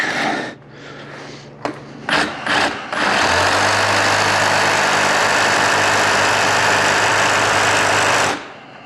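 Sawzall reciprocating saw cutting into a car axle, starting with a few short stuttering bursts, then settling into a loud, steady buzzing run close by before stopping abruptly.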